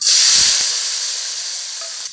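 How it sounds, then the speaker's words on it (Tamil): Washed turkey berries hit hot oil with a loud, bright hissing sizzle and a brief low bump, then the frying hiss settles and slowly fades over about two seconds, close and without speech. "இதை எண்ணெயில் போட்டு ஃப்ரை பண்ணிக்கலாம்"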